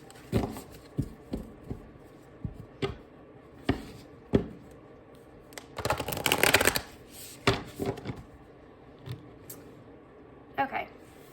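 Tarot cards are shuffled for a reading in soft, quick riffles and taps, with a longer dense burst of shuffling in the middle, close by, while a person talks over it.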